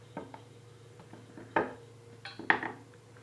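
Broken pieces of cooking chocolate dropped into a bowl while making ganache, giving a few quiet clinks and knocks against the bowl, with two sharper hits near the end and no talking.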